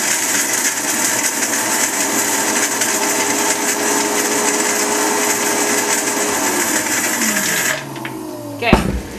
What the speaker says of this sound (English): I'm going to put them in my blender